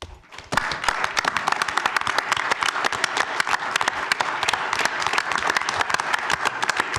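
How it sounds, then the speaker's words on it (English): Applause at a village board meeting in La Grange: a small group claps close by with distinct, rapid individual hand claps, starting abruptly after a brief quiet moment and continuing steadily. "I do appreciate that and would ask the board to join me in a round of applause for Charity."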